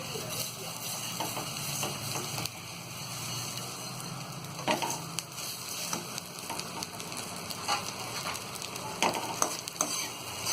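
Roasted poha, amchur powder and other chivda ingredients get stirred and tossed in a pan, a continuous dry rustling sizzle broken by repeated sharp scrapes and knocks of the spoon, with no voice heard.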